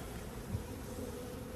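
Honey bees buzz around a heavily populated hive colony during nuc setup, a continuous dense hum heard up close at a steady level.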